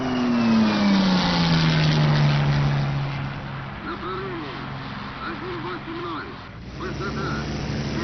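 A World War II era warplane engine in IL-2 Sturmovik roars at full power, a steady loud drone with a falling whine early on, continuing under a voice.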